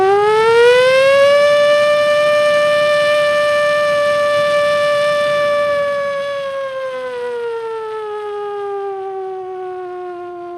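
A performer's voice imitates a factory siren on a comedy stage, a loud wail that rises, holds steady for several seconds, then slowly sinks, with no other sound around it.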